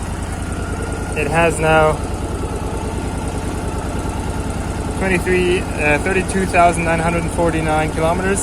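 An air-cooled Yamaha 1100 Drag Star Classic bobber motorcycle idles with a low, even rumble close by, while someone speaks over it at intervals.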